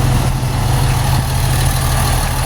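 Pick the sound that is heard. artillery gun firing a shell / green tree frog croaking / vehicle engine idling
vehicle engine idling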